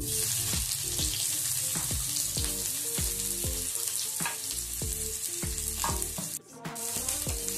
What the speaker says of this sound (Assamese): এতিয়া পিয়াজখিনি দি দিম